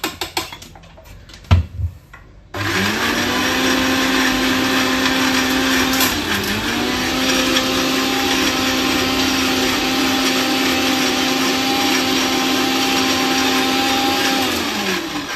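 A blender grinding a sesame-oil chutney, starting after a few clicks and handling noises, then whirring loudly and steadily at a constant pitch with a brief dip midway.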